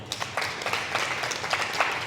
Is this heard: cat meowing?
no